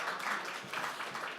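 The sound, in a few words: audience applauding the hackathon sponsors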